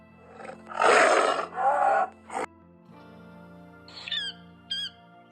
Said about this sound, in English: T is for toucan.